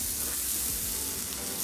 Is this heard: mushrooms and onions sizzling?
yes